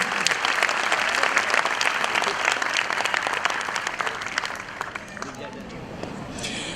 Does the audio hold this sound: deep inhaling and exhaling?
no